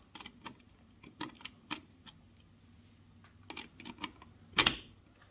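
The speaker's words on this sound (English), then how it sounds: "we're just going to go ahead and take a screwdriver, loosen up the terminals" Screwdriver loosening the terminal screws on an electrical outlet for a Coleman SaluSpa inflatable spa, heard as scattered small metallic clicks and scrapes at close range, ending in a louder brief rattle.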